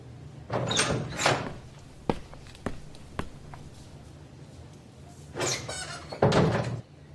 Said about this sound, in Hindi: चलो दरवाजा खोलो।